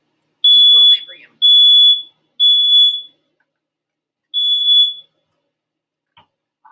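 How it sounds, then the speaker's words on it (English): A home smoke alarm beeps four times, shrill piercing tones each lasting about half a second, three in quick succession and one after a pause, loud and close with a brief voice at the start. "I'll definitely never catch on fire without my fire alarm going off"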